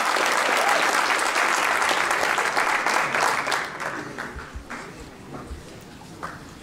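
Crowd at a high school athletic banquet applauding the JV tennis team, loud dense clapping that fades into scattered individual claps over several seconds.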